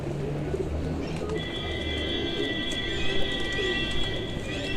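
Parel pigeons in a breeder's loft coo softly and steadily, low throaty calls repeating against a dense background with a thin high whine running underneath.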